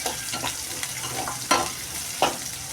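Spices tempering in hot oil for mochai bean kuzhambu in a home kitchen, a steady close sizzle and crackle with a few louder spits and stirring scrapes, no voices.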